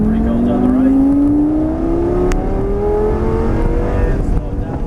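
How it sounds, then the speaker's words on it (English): A Lamborghini accelerates at full throttle around an airport track, a loud, close engine whose pitch climbs steadily through the rev range under continuous roaring noise, with a voice talking over it. "Full throttle to the 3 cones on the right"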